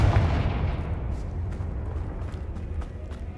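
Hogwarts Legacy Confringo fire spell blast inside a tomb: a deep booming burst that rumbles and fades over a few seconds, with faint crackles scattered through the decay.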